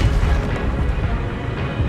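An Incendio fire spell cast in the Hogwarts Legacy video game, heard as a short, low, rumbling whoosh of steady loudness with a dull booming undertone and no speech.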